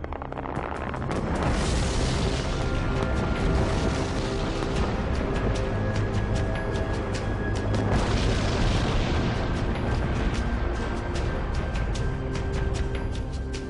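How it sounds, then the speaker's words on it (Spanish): Deep blasting explosions in a mine, two heavy rumbling booms followed by a long roaring blast that fills the space and stays loud throughout. "Estas explosiones abren una sección transversal hacia el pasado"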